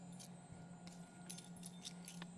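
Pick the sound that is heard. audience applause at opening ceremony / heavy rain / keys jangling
keys jangling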